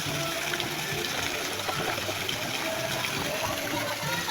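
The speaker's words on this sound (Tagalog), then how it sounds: "Itong tubig na to, mainit to galing bundok doon sa taas." Hot spring water coming down from the mountain pours and splashes in a steady gush close by, and a person talks over the flow.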